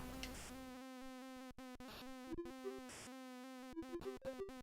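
In the Commodore 64 game Smack Those Crazy Weeds, a bee buzzes steadily as a raspy synthesized drone over chiptune music, with short blips and gaps breaking the sound.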